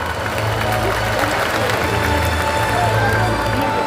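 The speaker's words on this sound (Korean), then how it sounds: "큰 박수로 환영해 주시기 바랍니다" Sustained applause from a large audience welcoming guests at a political party convention in a hall, dense and loud clapping with crowd murmur and a low hum underneath.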